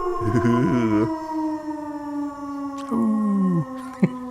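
A wolf howl sound effect, rising and wavering in long sustained tones, one loud howl followed by a second, then a shorter call and a brief sharp hit near the end.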